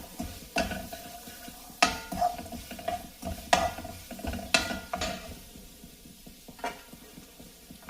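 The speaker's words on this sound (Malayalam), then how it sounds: "ഇത് സാമാന്യം ഒന്ന് വഴറ്റിയെടുക്കണം. ഈ ഒരു മീഡിയം ഫ്ലെയിമിൽ വെക്കാം." Onion sautéing in a pan over a medium flame, a soft continuous sizzle broken by repeated sharp scrapes and clinks of a spoon stirring against the pan, close up with no talking.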